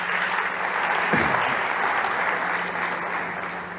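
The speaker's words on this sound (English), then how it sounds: "Big applause to Javier." An audience at a health startup pitch competition claps for a presenter, a loud, continuous, even wash of applause that holds steady for several seconds before easing slightly.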